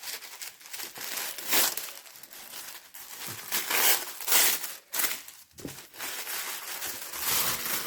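Pretty purple paper crinkling and rustling in handled bursts while a monthly subscription box is unboxed, close and fairly loud, with brief pauses between crumples and no talk.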